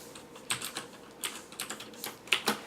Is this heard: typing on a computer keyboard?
yes